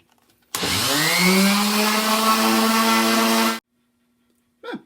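A power sander works the edges of a wooden sign, a steady loud whir running for about three seconds before cutting off abruptly, with a brief faint sound afterward.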